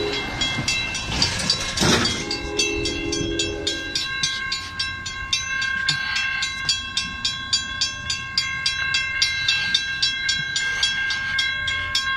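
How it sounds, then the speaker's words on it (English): Freight trains on a railroad, a CSX intermodal with distributed power meeting a BNSF coal train, roll past with steady rumble and rhythmic clickety-clack of wheels over rail joints, close and loud, with a horn sounding early on. "we got two trains coming"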